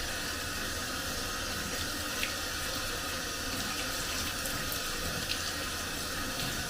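Running water splashes steadily into a sink as greasy hands are scrubbed clean after engine work on a Duramax, a constant close wash without voices.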